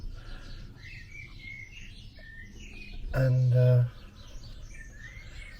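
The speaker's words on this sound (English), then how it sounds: "You can hear all the birds, they're all eager to get in here." Small birds chirp and twitter at a distance outdoors while a bird house is being built, their calls scattered throughout, with a brief spoken word cutting in midway.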